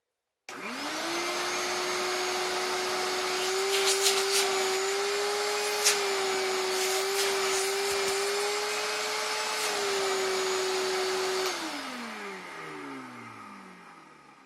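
A shop vacuum motor, newly fitted with a 608z ball bearing in place of a bronze bushing, whines up to a steady high drone, holds for about ten seconds with a few clicks, then winds down as it switches off.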